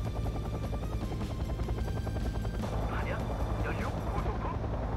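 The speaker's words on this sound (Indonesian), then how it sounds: "Nah, ini dia helikopter Chinook." A Chinook helicopter in the Wargame Red Dragon video game gives off a steady, loud rotor drone with rhythmic chopping pulses throughout, mixed with game battle noise and a voice talking over it.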